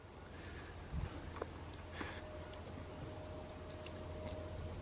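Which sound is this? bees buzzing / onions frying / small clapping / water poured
water poured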